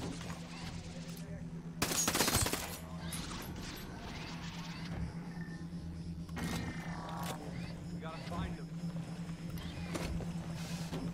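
Gunfire tears through cover in Ghost Recon Breakpoint: a sharp burst of shots near the start, then scattered impacts and cracks over a low steady background hum, fairly quiet overall.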